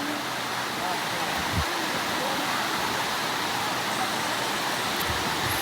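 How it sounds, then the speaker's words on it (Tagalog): Heavy rain pours down outdoors in a steady, dense roar that fills the whole stretch without letup, with a few faint low thumps underneath. "Grabe ang rain."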